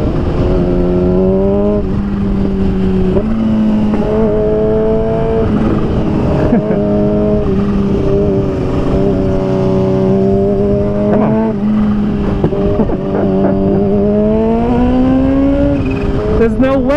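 A Ferrari F430 engine revs hard and climbs through the gears, each rising howl cut by a quick shift before pulling up again, loud and close throughout, with the pitch repeatedly sweeping upward.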